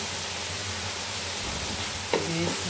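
Salt stirred through hot oil in a pan before rice goes in, a steady faint sizzle with a brief clink and scrape of the spoon near the end, no voices.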